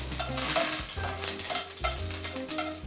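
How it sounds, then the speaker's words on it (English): Curry leaves frying in hot oil in a pan for a fish curry, giving a loud, continuous crackling sizzle with sharp spits and pops and occasional stirring scrapes. Nobody speaks. "Now we'll just fry this off in our pan, and they should release their flavors like so"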